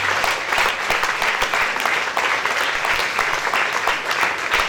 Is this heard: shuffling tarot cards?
no